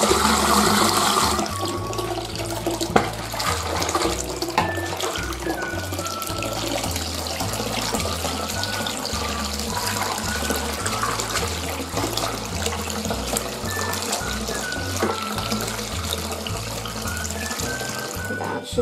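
Tap water runs steadily into a sink or basin with shampoo added, a constant loud rushing spray lasting the whole stretch, with some pulsing low background sound underneath.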